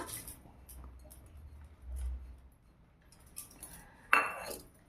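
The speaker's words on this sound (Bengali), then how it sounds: "মসুর ডালটা ভালোভাবে ধুয়ে নিয়েছি, কুকারের মধ্যে দিয়ে দিলাম।" Washed masoor dal tipped into a pressure cooker: a few quiet metallic clinks and scrapes of utensils against the pot, with a sharper clatter near the end in a quiet kitchen.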